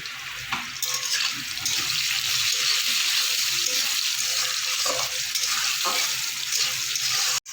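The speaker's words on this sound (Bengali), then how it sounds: "আলুটা আমার কিছুটা ভাজা হয়ে গেছে।" Salted potatoes fry in a pan, giving a close, steady hissing sizzle with occasional stirring scrapes that breaks off abruptly just before the end.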